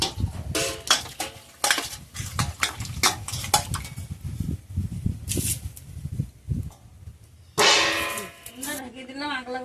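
A metal lid placed over a cooking pot amid a run of clattering pot and utensil knocks, then a bright clang followed by a ringing tone; a voice speaks in between.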